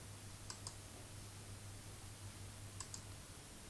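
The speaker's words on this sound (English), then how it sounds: "Let's click on run code, this button." A pair of sharp mouse clicks lands on a code editor's run button, close and crisp over a steady low hum and hiss, one double click early and another near the end.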